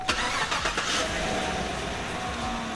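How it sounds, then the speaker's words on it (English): A car engine cranks briefly and catches, settling into a steady idle with a sustained tonal hum, close and fairly loud, with no talking. "So now I'm also ready to start my vehicle."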